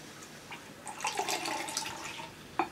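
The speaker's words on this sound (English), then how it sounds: "Pour a little bit in, about an half." Beer pours briefly into a glass, a soft splashing gurgle lasting about a second with faint drips before and after.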